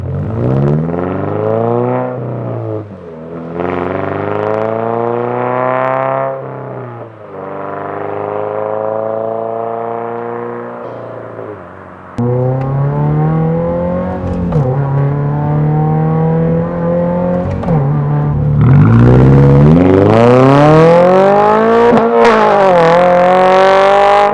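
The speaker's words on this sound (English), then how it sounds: "It gets loud when you are really on the throttle" A 2022-or-later Subaru BRZ engine revs hard through repeated rising pulls, its loud AWE track exhaust roaring and dropping between bursts, building to a final strong climb.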